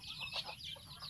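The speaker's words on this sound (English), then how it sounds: "the birds are crazy." Birds squawking and clucking as they fly wildly around one small outdoor area, a steady run of harsh calls, faint and somewhat distant.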